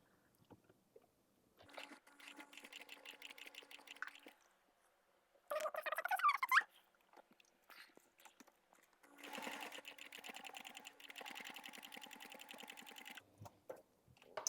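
A sewing machine stitches a bag strap in two steady runs of a few seconds each. A brief rustling handling noise falls between them, and all of it is quiet, close and free of speech.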